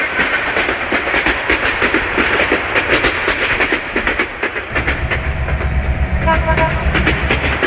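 Burimari Express train running on rails, a loud close rumble with dense rhythmic clickety-clack and rattling wagons throughout, a horn-like tone faintly heard near the end.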